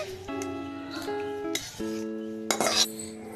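Metal utensils and a pan clink against dishes while prawn curry is served from the pan, giving a few bright ringing clinks with short pauses, close and moderately loud.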